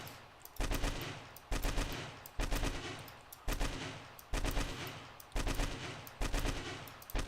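Video game gunfire comes in repeated loud bursts of rapid automatic shots, each burst lasting under a second and separated by brief gaps, about seven bursts in a row with no voice over them.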